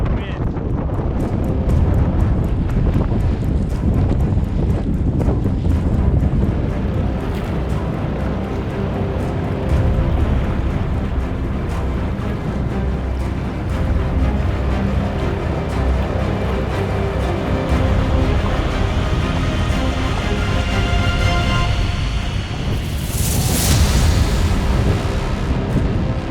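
Strong wind of roughly 35 kph on an open bay during a long canoe expedition, roaring steadily and loudly into the microphone with deep rumbling buffets throughout and no clear speech.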